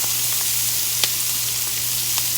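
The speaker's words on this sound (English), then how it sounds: "Sauteed collard greens in olive oil. It's hot, hot, hot." Collard greens fry in hot olive oil with a constant hissing sizzle and a few faint pops, with a low hum beneath and no talking.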